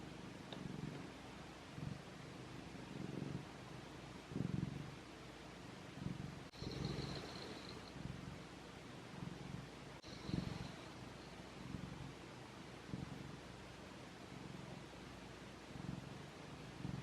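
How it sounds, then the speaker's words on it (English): A cat purrs softly and steadily close by on a rainy day, a low rhythmic rumble rising and falling with each breath, with faint rustling now and then. "The purrs."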